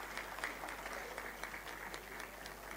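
Audience clapping at a Thapar Institute of Engineering & Technology ceremony, a steady wash of applause at moderate, somewhat distant level with a few sharper individual claps standing out.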